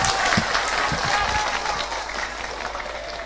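A crowd at a religious lecture in a village in Banten breaks into dense, loud applause that fades slightly over a few seconds, with voices mixed into the clapping.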